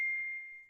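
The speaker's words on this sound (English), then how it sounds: "So that was my phone dinging." A phone notification sounds once: a single bright, clear ding that rings out and slowly fades away.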